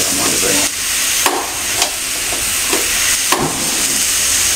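Maida flour roasting in ghee and cooking oil in a pan makes a steady, close sizzling hiss, broken about once a second by brief scraping strokes of a stirring spoon.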